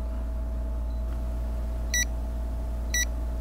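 A DC volt panel meter with a low-voltage alarm gives two short, sharp electronic beeps about a second apart, clearly audible over a constant low electrical hum.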